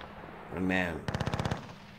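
Machine-gun fire in the Panzer Battles North Africa 1941 war game, Operation Compass at Bardia: a tonal swell, then a rapid, evenly spaced burst of about eight loud shots.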